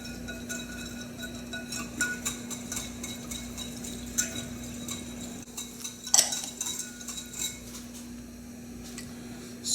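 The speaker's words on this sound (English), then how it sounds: "make sure that the cornstarch mixes well with the liquid and there are no lumps" Cornstarch being whisked into liquid for a Chinese crisp velvet shrimp sauce, with a light, steady clinking and tapping of utensil against bowl and a few sharper ticks, close and alone.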